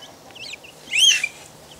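Young chicks make a few high chirping peeps close by, with one louder sweeping call in the middle, over a quiet background.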